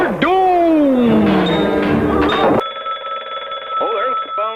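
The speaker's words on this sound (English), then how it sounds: "Oh, there's the phone now." Telephone bell ringing loudly and steadily, starting after a burst of dramatic speech and continuing alone for a couple of seconds before a voice returns.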